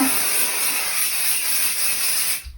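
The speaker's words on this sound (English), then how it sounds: "Starting with the spray," A continuous aerosol spray of spray adhesive onto quilt fabric hisses for a couple of seconds, then stops abruptly.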